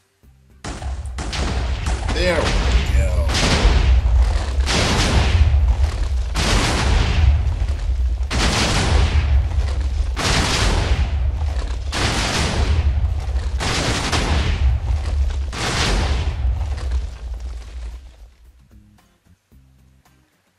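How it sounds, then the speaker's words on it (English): A Minecraft explosion sets off a long run of loud, rumbling booms in rapid succession, about a dozen blasts over roughly seventeen seconds before fading, with a brief spoken remark. "Let's see this beautiful explosion."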